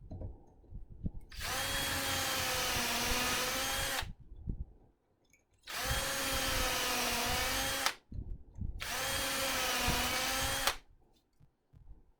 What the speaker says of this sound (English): So let's drill 2 more holes.